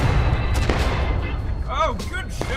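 Musket fire in the Civil War battle game War of Rights, with several sharp gunshots going off amid constant battlefield noise, and voices shouting over the din.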